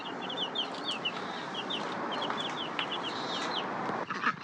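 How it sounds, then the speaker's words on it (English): Week-old baby meat chicks on a small farm peep in a busy chorus of high, repeated chirps, close and continuous against a steady background hiss, with no talking. "So first, we're going to start with our baby chicks."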